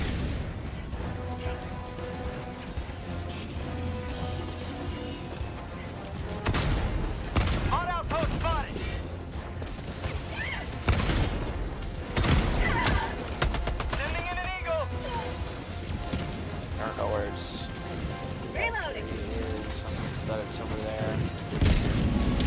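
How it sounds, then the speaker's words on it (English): Orbital strike explosions in Helldivers 2 land as a series of heavy booms and blasts amid ongoing gunfire, several loud impacts spread across the stretch, with a player talking throughout. "Calling in orbital strike"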